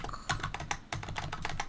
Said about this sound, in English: Can you hear my loud ass keyboard?